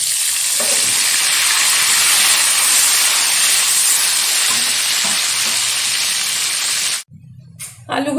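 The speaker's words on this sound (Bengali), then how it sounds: "আমি তেলের মধ্যে ছেড়ে ভালোভাবে ভেজে নেব।" Potato pieces rubbed with salt and turmeric sizzle loudly in hot mustard oil, a steady close hiss that runs for about seven seconds before dropping off abruptly into a brief quieter stretch.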